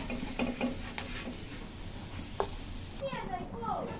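Onions sizzle steadily in hot oil in a kadai, a dense close frying hiss with a few light utensil clinks before the sound thins out near the end.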